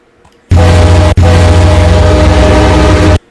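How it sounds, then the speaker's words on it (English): A loud, deep diesel locomotive horn in the video game Train Sim World blasts twice, the first a short burst and the second held for about two seconds, close and harsh. "And then you have the horn here"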